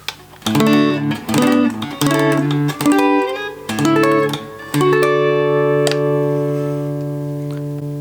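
A 1970 Shaftesbury 3265 Thinline Telecaster electric guitar, played clean: strums and picked chords ring out, a few quick choppy strokes followed by a long sustained chord fading away.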